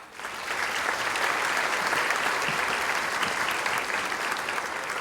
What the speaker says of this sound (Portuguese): a gente pode aplaudir os acadêmicos que estão aqui